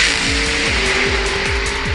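Danny Cockerell's Rover race car in a Super Modified drag race final at Bug Jam 17 (2003), a loud, steady engine roar with rising gear-change sweeps repeating through the run, no voices.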